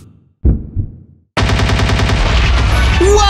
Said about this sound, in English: use TNT to blow open a space in the wall